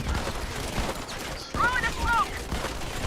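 Gunfire in the mobile shooter Modern Combat 5, rapid overlapping bursts of shots blended with other game effects, loud and close throughout, dipping briefly midway before resuming.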